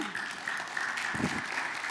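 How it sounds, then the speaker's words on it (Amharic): A church congregation claps after a sermon, a quiet, dense patter of many hands sounding from some distance and holding steady for a couple of seconds. "ለመልእክቱ አጨብጭቡና"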